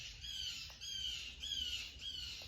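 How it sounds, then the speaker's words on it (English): Birds squawk outdoors in a steady repeated pattern, several harsh calls in a row, faint and distant with low background rumble, no talking. "you hear the birds in the background."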